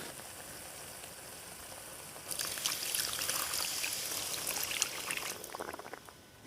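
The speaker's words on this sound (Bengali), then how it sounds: "তো এবার আমি পরিমাণ মতো জল দিয়ে দেব।" Water poured into curry frying in a pan, a steady sizzle that swells into a gushing, hissing pour partway through, close and moderately loud with no talk.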